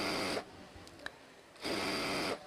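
A sewing machine runs in two steady bursts separated by a quiet pause while stitching the 1.5-inch-wide elastic casing around the waist of dhoti-style pyjamas, close and fairly loud with no talk.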